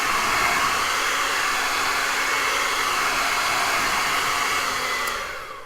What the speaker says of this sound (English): Your hairdryer should have a cold air button